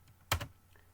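A single close keystroke cluster on a computer keyboard, a quick sharp clack with a faint follow-up tap, quiet surroundings.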